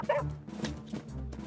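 A cartoon dog in an animated fire-rescue show gives several short, close barks and yips in quick succession, with an excited, slightly whimpering edge.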